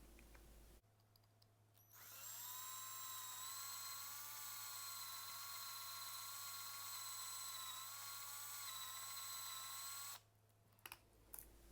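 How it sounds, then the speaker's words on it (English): A power drill bores out the rivets on a Hot Wheels die-cast toy car, starting after a second of quiet and running as one steady, loud, high-pitched whine for about eight seconds before cutting off. "now let's get out with the rivets here"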